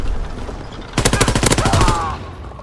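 Automatic weapons fire in a burst in the Call of Duty World War II multiplayer war mode, a fast loud rattle of about a dozen shots lasting around a second and then fading into a ringing tail, with battlefield noise around it.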